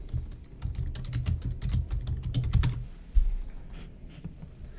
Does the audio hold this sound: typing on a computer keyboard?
yes